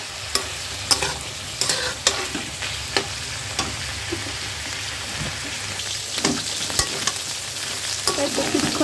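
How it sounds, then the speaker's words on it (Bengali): Dried fish fries with onion in oil, a steady sizzle broken by regular clinks and scrapes of a utensil stirring in the pan, close and clear with no talking. "পেঁয়াজের সাথে আর তেলের ভিতরে একটু ভেজে নিব শুটকিটা।"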